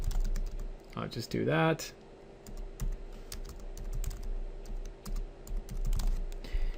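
Computer keyboard keys tapped in quick bursts while a username, email and password are entered, close and steady clicking throughout, with someone briefly speaking over it.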